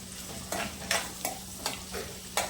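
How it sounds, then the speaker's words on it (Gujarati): Garlic, ginger and chilies sautéing in a pan for paneer masala: a steady soft sizzle with several bright stirring scrapes at irregular intervals, close up and without speech. "બરાબર સોટે કરશું અને તેમાં જ આપણે આ લસણ, આદુ, મરચાંને નાખી દઈશું"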